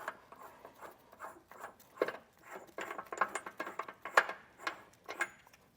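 A ratchet wrench backs a nut off a 2024 Jeep Grand Cherokee L during a base plate installation, producing rapid, uneven bursts of close, crisp pawl clicks across the whole stretch.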